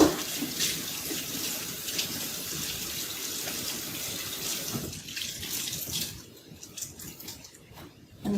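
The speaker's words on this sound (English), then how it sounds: "Just rinsing out my cloth." A cloth is rinsed under a running kitchen tap, giving a steady splashing water flow that stays loud and close for most of the clip, then thins and breaks up near the end before surging again briefly.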